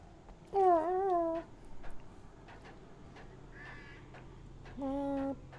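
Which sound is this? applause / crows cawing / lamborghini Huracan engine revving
crows cawing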